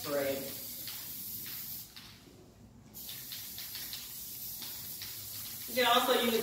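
Spray adhesive hisses from an aerosol can onto fabric stretched over a cardboard box in short repeated bursts, fairly quiet and close, with a person talking before and after.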